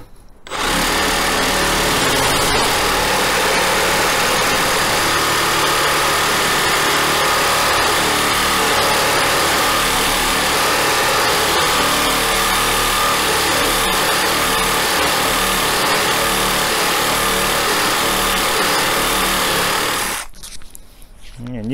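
A Makita DJR187Z cordless reciprocating saw with a dull blade cutting metal, a loud continuous buzzing rasp with heavy vibration for about twenty seconds, starting and stopping abruptly.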